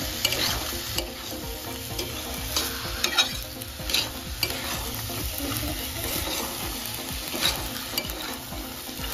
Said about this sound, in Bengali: এখানে ছোলাগুলো দিয়ে দেব। দিয়ে আবারও ভালো করে নাড়িয়ে নাড়িয়ে কষিয়ে নেব।